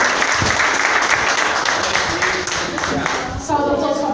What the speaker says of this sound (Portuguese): Vamos receber ela com uma salva de palmas.